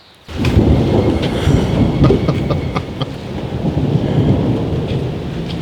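Thunder rumbles loud and close, a long rolling roar with crackling peaks that starts abruptly and keeps going, with no talk over it.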